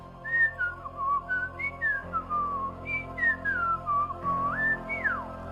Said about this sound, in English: I can only do the traditional method of whistling.